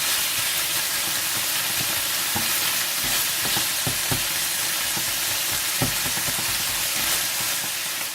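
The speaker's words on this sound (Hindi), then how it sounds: "और सोया सॉस डालकर अच्छी तरह से फ्राई कर दें।" Chicken mince frying with soy sauce in a pan, a steady loud sizzle with repeated scraping stirs of a spatula, alone without talk.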